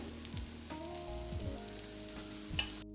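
Sesame oil sizzles and crackles in a hot pan while kari dosa is being made, a steady close frying hiss with a few brief stirring scrapes, cutting off abruptly at the end.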